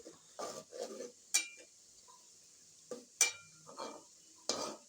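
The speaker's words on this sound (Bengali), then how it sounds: "আমি চুলা ধরাইয়া লাড়াচাড়া কইরা আমি ঢাকনা দিয়ে ঢেকে দিলাম" A utensil stirs potatoes in a pot on a stove, giving a series of faint, irregular scraping and clinking strokes with quiet pauses between.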